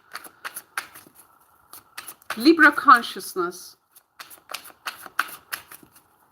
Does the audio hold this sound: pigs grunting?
no